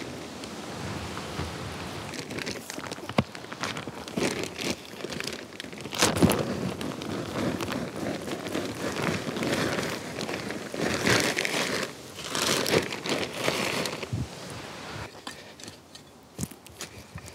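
Outdoors in a woodland garden, an old bread knife saws and tears through plastic compost bags, a continuous crinkling, ripping rustle that comes up close and fairly loud in uneven surges.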